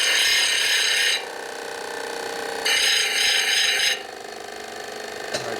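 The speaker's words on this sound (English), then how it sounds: "first thing we're going to do is grind this here a little bit, flatten it out" Grinding flat a 1957 Harley panhead cylinder head: two loud, harsh bursts of abrasive grinding separated by a softer, steadier scraping, close up, with no talk.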